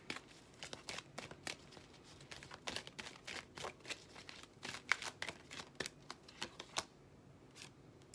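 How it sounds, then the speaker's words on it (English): Tarot cards shuffled and drawn during a reading, a quiet run of soft riffling flicks and papery snaps in irregular bursts, close and alone with no talk. "Let's pull a second card."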